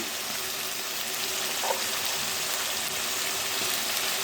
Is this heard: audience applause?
no